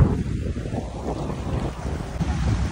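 Sea water splashing against a passenger boat on the water in Istanbul, loud sloshing and wave wash mixed with heavy wind buffeting on the microphone, continuous throughout.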